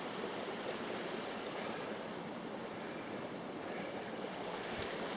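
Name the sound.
creek water running past a beaver dam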